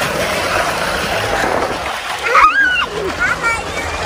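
People jump into swimming pool water, a sharp splash and sloshing after a steady wash of water noise, with voices talking and calling close by.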